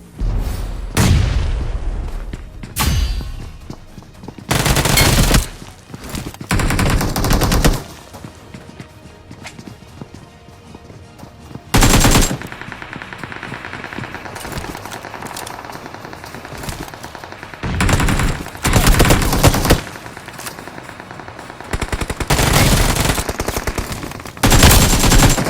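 Rapid automatic gunfire from a UMP in a shooting video game comes in loud repeated bursts of varying length, separated by quieter gaps with softer game sounds.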